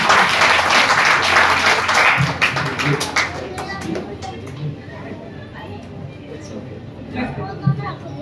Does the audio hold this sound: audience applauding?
yes